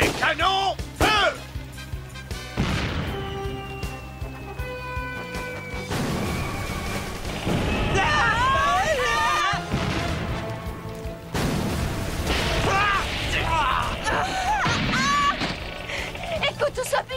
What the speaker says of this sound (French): Les canons, feu!